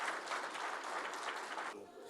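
Audience applause in a meeting room, a steady wash of many hands clapping for about two seconds before tapering off at the end.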